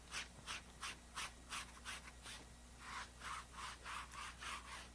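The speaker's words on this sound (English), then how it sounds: "Sounds like sandpaper." A cloth rubs an umber wash across a rough painting surface in about a dozen quick, rhythmic strokes, each a close, raspy, sandpaper-like scrub.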